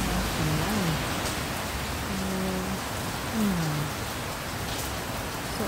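Heavy rain pours down in a continuous dense hiss, with faint low whistling tones drifting underneath and no talk.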